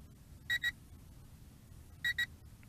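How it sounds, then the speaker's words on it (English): Two pairs of short electronic beeps from a Potensic D58 FPV drone in flight, each double-beep quick and clear, separated by a pause, over a quiet background hum. "it is sending me a couple of beeps each time"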